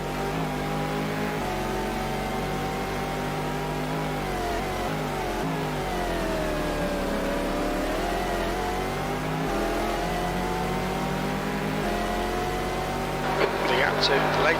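A race car in a racing game at the 2000 Silverstone 500, an ALMS round, its engine droning and sweeping up and down in pitch through gear changes, with a commentator talking over it.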